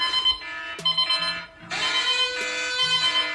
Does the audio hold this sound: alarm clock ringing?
yes